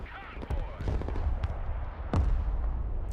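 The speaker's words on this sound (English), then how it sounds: "Then more artillery coming in." Artillery fire in a real-time strategy video game: several booming impacts and crackling blasts overlap, with low rumbles and a sharp hit near the end, under ongoing talk.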